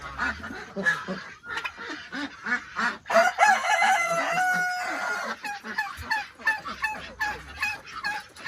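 Roosters crow repeatedly, one long crow rising clearly above a busy background of other poultry calls and honking.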